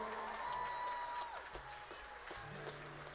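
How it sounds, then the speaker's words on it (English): Audience applause for teachers at an evening school showcase, a steady patter of clapping at moderate level with a few louder claps and some background murmur. "Can we please have a round of applause for all the teachers who cared enough to show up tonight?"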